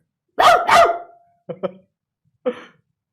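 A person gives a few short barking imitations of a dog, first two loud rough barks, then quicker softer yaps, and a final single bark.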